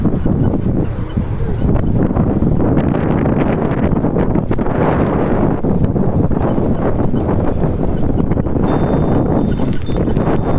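Wind buffets the microphone during a countryside bicycle ride into a headwind, a loud, steady rushing roar that fills the whole stretch without letting up.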